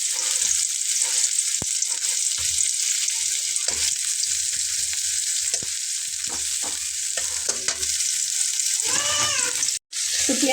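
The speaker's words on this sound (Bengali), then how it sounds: "এখন আমি এখানে পেঁয়াজ কুচি করে নেওয়া দিয়ে নিচ্ছি" Chopped onion frying in hot mustard oil gives a loud, continuous sizzle throughout, broken by occasional stirring scrapes and clatters, with no voices.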